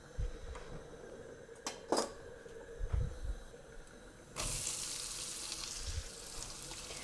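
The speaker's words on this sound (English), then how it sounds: "add a teaspoon of cumin seeds and let them sizzle nicely" Cumin seeds crackle a few times in hot oil, then a loud, steady sizzle breaks out and continues, close up with no talking.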